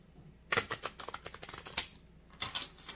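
Oracle cards being shuffled in quick bursts of riffling clicks and flutters, close and fairly quiet, with short pauses between rounds.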